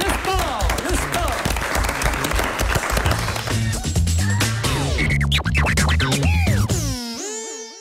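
Studio audience applauding a sports presenter named Olivier at the close of a live regional TV sports segment, steady dense clapping with music playing over it, cutting off abruptly near the end.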